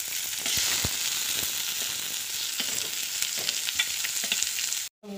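Chopped onion sizzling steadily in hot oil with cumin in a pan for Goan dal, a dense continuous hiss with a few stirring scrapes, close and loud, no voices.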